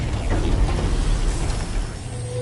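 Rotating screw mechanism set in motion by a floor panel in the video game Horizon Forbidden West, a steady grinding, ratcheting mechanical churn close up that holds for a couple of seconds, then eases slightly.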